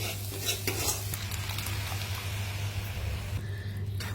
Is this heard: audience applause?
no